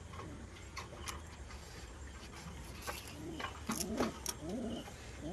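Pet pigeons drinking water in the evening: soft, low cooing phrases near the end, with scattered light taps and clicks over a quiet, steady background hum.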